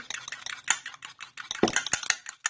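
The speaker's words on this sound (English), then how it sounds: "So just take your time and stir those together." A utensil stirs blueberry lemon scone batter in a bowl, giving quiet, irregular scraping and clinking taps against the bowl, close and soft.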